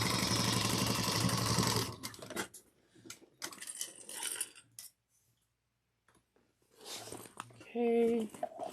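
Sewing machine back stitching a seam, a dense mechanical whir for the first two seconds, then scattered clicks and short bursts, a silent gap, and more handling noise with a brief tonal buzz near the end.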